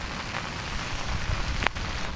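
Rain falls steadily at sea while people fish from a boat, a dense hiss of drops on surfaces throughout with a brief sharper knock near the end and no speech.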